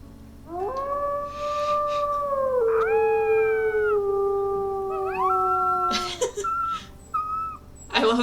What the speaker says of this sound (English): she will wake up and howl whenever her dad does